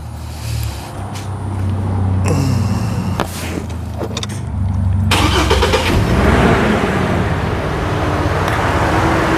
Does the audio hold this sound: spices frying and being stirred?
no